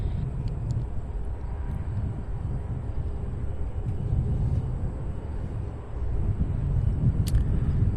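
An Alaska Airlines jet in San Francisco special livery takes off from runway 18 left at Cincinnati's CVG airport, heard as a distant, steady broadband roar and rumble that swells slightly toward the end, with faint outdoor background.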